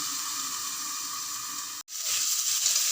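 Steady hissing sizzle of brinjal frying in a pan, briefly cut off, then swelling louder and brighter as water is sprinkled over the hot vegetables, close and continuous with no talk.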